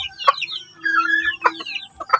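A native chicken kept in a cage clucks in short close bursts, with a longer drawn-out call in the middle and a few sharp notes at the end.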